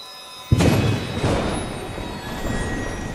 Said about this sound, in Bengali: বৃষ্টি যেন আকাশ ফেটে নামছে